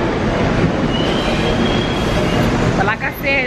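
A New York subway train runs with a loud, steady rumble and a thin squealing wheel tone. Voices cut in near the end.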